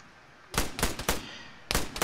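Suppressed gunfire in a military video game: several short bursts of muffled shots in quick clusters, close and fairly loud, with no talk over them.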